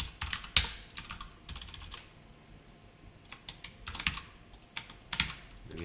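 Fingers typing on a computer keyboard while entering a board post, a steady run of quiet close-up key clicks with small bursts and short pauses, no talking.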